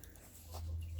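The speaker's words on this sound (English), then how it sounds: "These are our baby turkeys." Young turkey poults in a brooder give a soft, faint high-pitched call near the end, over a steady low hum and quiet background noise.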